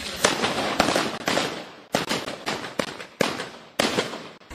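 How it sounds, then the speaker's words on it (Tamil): Firecrackers are set off at a political celebration in Sri Lanka, with a series of sharp, loud bangs and crackling bursts repeating every half second or so, each followed by a brief decaying rattle. "ஆதரவாளர்கள் வெடிகொளுத்தி கொண்டாட்டத்தில் ஈடுபட்டனர்"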